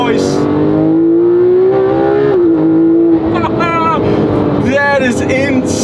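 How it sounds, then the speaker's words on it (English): Loud in-cabin roar of a Porsche 911 GT3 RS flat-six mounted just behind the seats, with a 9,000 rpm redline; the engine holds a high, steady note, dips, then climbs again through repeated rising revs. "The flat 6 is right behind my ears, making a lot of noise."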